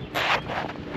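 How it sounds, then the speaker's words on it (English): Strong gusting wind buffets the microphone outdoors, a loud, close, broadband rumble and roar that swells and eases over a second with no voices. "Wind's still whipping."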